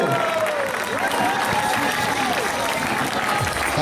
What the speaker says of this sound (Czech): Pojďte zatleskat před posledním úkolu.